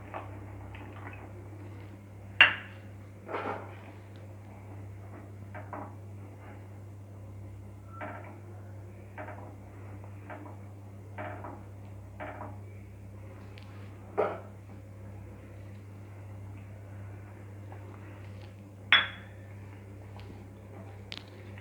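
Vermicelli custard mixture being stirred in a pan with a spoon, producing sparse, light clinks and scrapes at irregular intervals over a low, steady hum in an otherwise quiet kitchen.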